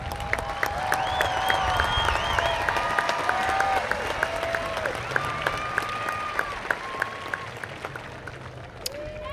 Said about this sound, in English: Teachers, please stand so that we can recognize you and applaud your service and commitment to our students.